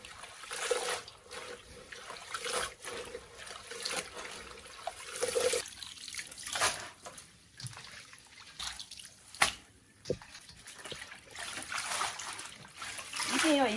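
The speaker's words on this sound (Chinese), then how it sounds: "金芥摘好之后，给它放入清水中，用清水给它清洗2遍" Schizonepeta (jingjie) herb leaves are washed by hand in clear water, with irregular splashes, drips and sloshing close by, mixed with a person talking.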